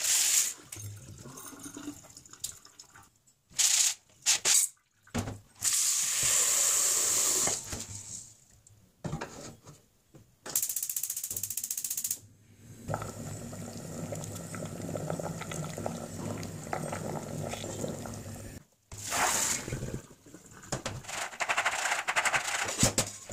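Water gushes and splashes in uneven bursts as cooking water is poured off boiled beans for Japanese sweet bean paste and drained through a strainer, with pauses between pours.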